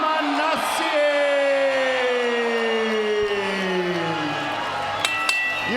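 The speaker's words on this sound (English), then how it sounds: "You can hear the crowd erupt here in the Burbank Airport Marriott Convention Center." A crowd at an MMA fight night in a hotel convention center in Burbank erupts in whoops and cheers under a ringing, sustained announcer's voice, with scattered clinks and a sharp knock near the end.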